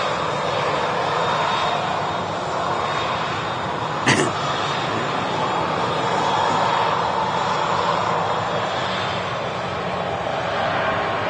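Malta Air airliner in Ryanair livery taking off at Manchester Airport, a steady loud jet engine roar that holds throughout, with a short click near the middle.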